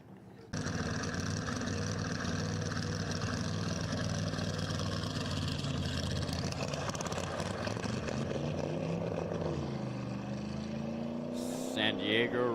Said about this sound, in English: San Diego Roadster Club entry, 1953 Ford 8-cylinder, 300 cubic inch, favoring the right side of the course, grabbing for gears, looking for speed